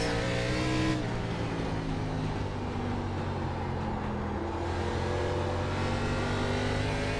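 ARCA race car in the iRacing sim at South Boston, engine droning steadily at speed with layered harmonic tones while the tires slide briefly; continuous loud motor sound with no talking.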